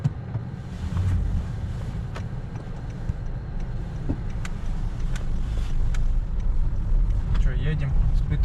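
A Honda Fit GP5 on a test drive after a repair to its automated manual gearbox, with a steady low engine and road rumble plus wind noise inside the car throughout.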